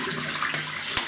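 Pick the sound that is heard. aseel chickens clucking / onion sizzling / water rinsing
water rinsing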